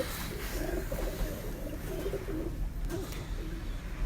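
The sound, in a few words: cooing of a Salara Taddy pigeon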